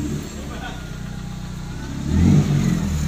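A 1995 Daihatsu Feroza engine idles steadily up close, then revs up for a moment and holds at a higher pitch, with people talking over it.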